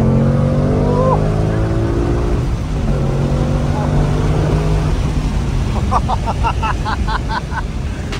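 Supercharged 2023 Ford Mustang Mach 1 engine accelerating hard in third gear, a loud sustained roar with rising harmonics building steadily, and excited voices exclaiming over it.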